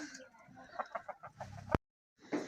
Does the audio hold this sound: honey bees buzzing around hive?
no